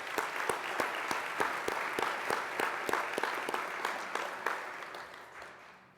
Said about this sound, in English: Let's give a round of applause for all of our coaches today